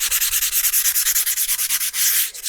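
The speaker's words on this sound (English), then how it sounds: "I'm going to score the edges of the file" A nail file's edges are scored with replaceable nail-file sandpaper on a metal centreboard, giving a steady rhythmic rasp of quick back-and-forth strokes, close and alone.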